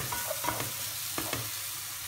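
Onion frying and browning in a pan, a steady close sizzle with a few soft stirring scrapes, no voices.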